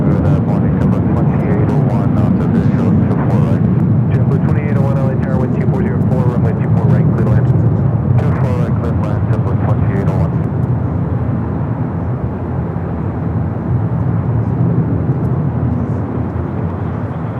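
Jet airliners at Los Angeles LAX airport give a loud, continuous engine roar that holds steady throughout, with a voice talking over it.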